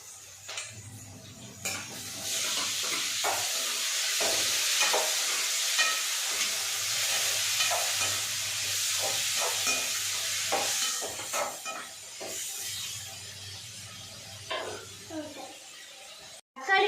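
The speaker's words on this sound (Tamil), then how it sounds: "நல்லா மசிகிற வரைக்கும் நம்ம நல்லா வந்து எண்ணெயில் வேக விடணும்" Onions and tomatoes frying in hot oil for a dried-fish thokku make a steady sizzle with frequent spoon scrapes and stirring against the pan, close and continuous.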